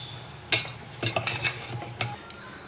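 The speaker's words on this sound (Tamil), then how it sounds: "நல்லா வந்து கிளறி விட்டுக்கலாம்" A spoon stirs mushrooms into gravy in a pan, giving a few distinct scraping clinks and knocks of metal against the pan in an irregular rhythm, close and moderately loud, with no talking.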